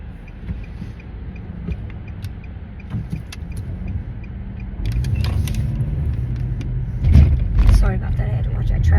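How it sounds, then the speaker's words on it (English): Road traffic passing, a steady low engine rumble that swells around the midpoint and peaks briefly near the end, with muffled voices underneath. "I had to watch that traffic."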